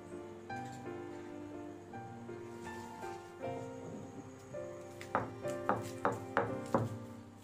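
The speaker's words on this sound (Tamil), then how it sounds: "நம்ம எடுத்து வச்சுருக்க சின்ன வெங்காயத்தையும் அதே மாதிரி தட்டிக்கலாம்." Small onions (shallots) are pounded for crab rasam in a kitchen, with about six firm, evenly spaced thuds near the end over soft background music.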